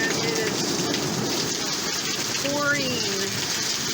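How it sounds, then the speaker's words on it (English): Heavy rain pours down in a loud, steady roar with no letup, a dense wash of noise filling the whole stretch. "It's not a gentle storm we're having. It is quite loud."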